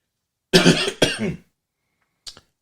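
Two harsh coughs in quick succession, then a brief quiet pause and a small throat-clearing sound near the end.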